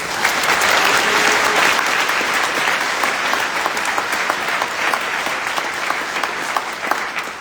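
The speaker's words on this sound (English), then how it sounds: "We just want to give them a round of applause as well." A crowd at a town hall meeting applauds volunteers, a loud, dense round of clapping that swells early and then gradually thins and tapers.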